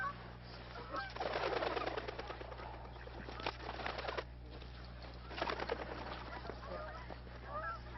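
Geese honk repeatedly in noisy bursts, a flock calling close by over a low steady hum.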